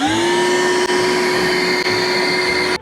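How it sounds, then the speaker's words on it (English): A bucket converted into a vacuum runs with a loud, steady motor whine and airflow roar for nearly three seconds before abruptly switching off. "I just turned my bucket into a vacuum."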